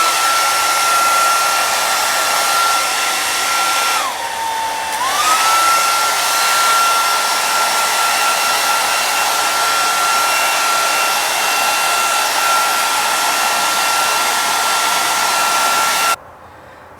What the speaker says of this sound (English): Now at this time, I will go ahead and blow dry.